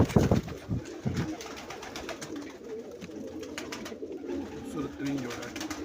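Pair of Lal Badshah breeder pigeons cooing close by, soft low coos running under steady talk from a man, with a few louder thumps and rustles near the start.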